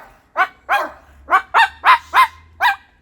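Dog barking indoors, a string of seven sharp, close barks coming in quick succession with short gaps, loud and alone over a faint low hum.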